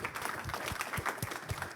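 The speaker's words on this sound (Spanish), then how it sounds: "Un aplauso para ella y su interesante conversación." Audience applause at a conference session on electoral observation, right after a professor's talk, a steady faint wash of many hands clapping from a seated crowd.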